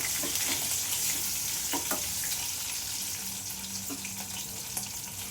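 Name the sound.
chopped green chillies being added to a hot pan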